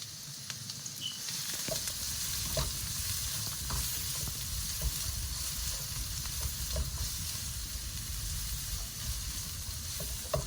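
Onions sizzle steadily in a hot pan throughout, a constant frying hiss with occasional soft stirring clicks, close and alone with no talking.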